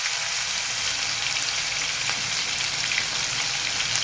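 Chili, garlic and ginger paste fries in hot oil with a loud, dense, continuous sizzle. It carries on alone and close up for several seconds with no talk.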